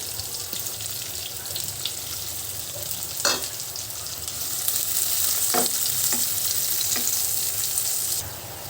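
Onion goes into a pan of browning garlic, and a steady sizzle turns louder and denser after a few seconds, with several sharp clinks and scrapes of a spatula stirring; no talking.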